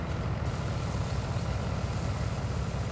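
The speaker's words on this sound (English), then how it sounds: "I am liking this little Fendt tractor as well. This thing is looking pretty good. Pretty happy with it. I like the sound of it" Fendt tractor engine idling in Farming Simulator 19, a steady low rumbling drone that holds even and continuous throughout with no talk.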